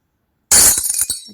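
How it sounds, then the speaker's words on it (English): A glass smash sound effect from the InShot video editor: after a silent half second, a single sharp crash of breaking glass bursts loud, then scattered shards tinkle and fade within a second. "I'm gonna choose smash glass 2"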